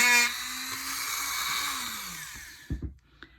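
Dremel rotary tool with a bit working a sterling silver ring, a steady high whine that drops in pitch as it winds down, followed by a few quick handling knocks.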